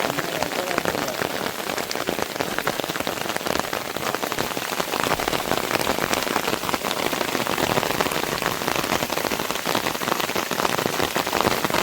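First monsoon rain of the season in Konkan pours steadily onto surfaces, a dense, even hiss of drops that stays loud and close for the whole stretch, with no voices.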